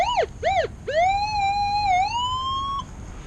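Minelab Manticore metal detector giving a clear electronic target tone in a field: two short rising-falling beeps, then a longer sustained warbling tone lasting nearly two seconds, loud and close with no talk.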